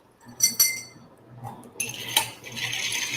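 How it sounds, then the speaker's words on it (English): Ice clinking against a mixing glass as a cocktail is stirred: several bright clinks and chimes over a faint low hum, followed by a softer swirling rattle. "Mix it up with some ice. About 30 rotations in the mixing glass."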